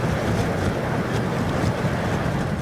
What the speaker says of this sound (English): Gusts nearing 60 miles per hour sent massive waves crashing into an island in the Sound.